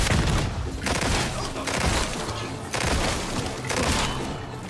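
Rapid loud gunfire in Resident Evil 4 crackles in dense bursts, shot after shot blending into a continuous volley with brief gaps, close and dominant.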